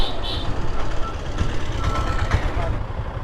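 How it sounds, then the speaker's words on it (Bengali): Traffic sits jammed on a rainy road on the way to Cox's Bazar in Bangladesh, with a rumbling truck engine and repeated high reversing beeps near the start over a low, continuous road din. "এখানে আবার ট্রাফিক লেগে গেছে"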